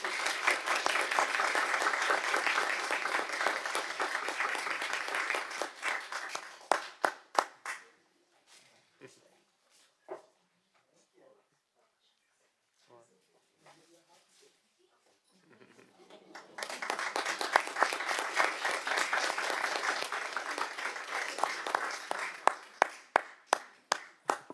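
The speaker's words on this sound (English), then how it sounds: "let's give Andres and Julian another round of applause" Applause from an audience at a school board meeting, a sustained burst of clapping that thins to scattered claps and near quiet, then swells into a second full round before scattering again.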